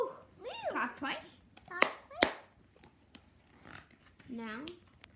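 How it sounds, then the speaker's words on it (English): Hands clapping in a playful children's counting game, two sharp claps standing out near the middle among other scattered sounds, with an adult voice and a voice chattering around them. "Ooh, clap twice."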